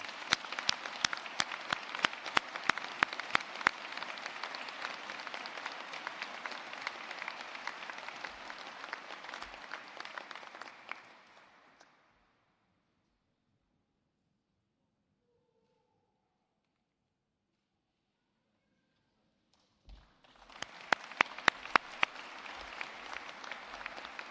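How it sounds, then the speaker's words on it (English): A crowd at an apprentice awards ceremony applauds steadily for several seconds, the clapping fades into silence, then another round of applause starts up. "Can we have a round of applause for Adam and Cameron?"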